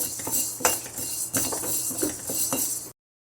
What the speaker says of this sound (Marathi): असे शाबू छान भाजून घ्यायचे